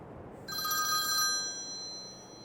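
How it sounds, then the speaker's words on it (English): A telephone in Farming Simulator 22 rings once in a bright electronic trill that starts suddenly, holds for about a second, then fades away. "My phone's ringing."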